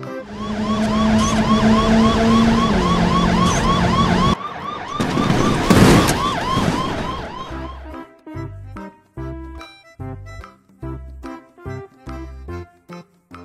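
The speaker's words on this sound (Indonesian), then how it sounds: "Police car." Toy police car siren wailing loudly and continuously for several seconds, then giving way to a rhythmic electronic jingle of repeated short notes.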